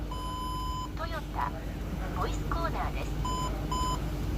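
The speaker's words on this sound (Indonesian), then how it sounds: "Kalau menurut gue sini kayak corner sensor gitu ya, soalnya kalau dinyalain dia kayak ada bunyi Jepangnya gitu." Corner sensor on a 2002 Toyota Soarer 4.3 V8 (Z40) sounding steady electronic beeps with synthesized Japanese voice chirps between them, heard close inside the cabin over a low engine hum.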